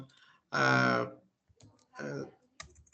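Short bursts of keystrokes as a patient's name is entered on a computer keyboard in homeopathy prescription software, quick clusters of clicks separated by pauses, close and fairly quiet.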